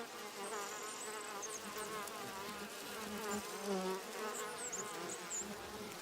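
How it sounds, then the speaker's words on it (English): A colony of Japanese honeybees hums around garden hives in southern Honshu in spring, with many wingbeats overlapping into a steady buzz and individual bees passing near, under a soft ambient background. "A colony of Japanese honeybees has taken over the garden hives."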